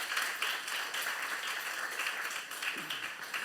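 A church congregation at a youth service sermon claps in broad, rolling applause that runs for several seconds at an even level, with faint crowd murmur mixed in.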